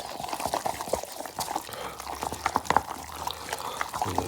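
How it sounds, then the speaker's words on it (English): Flour-thickened curried mussel fritter batter is stirred in a bowl, giving a continuous wet, sticky squelching and slapping with irregular soft clicks of the utensil, close up and moderately loud. "Give it a good stir."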